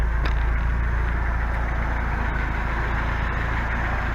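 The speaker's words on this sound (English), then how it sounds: "The engine runs really good." A Jeep Comanche pickup truck's engine idles steadily up close, a smooth, even, low rumble running without change or pause.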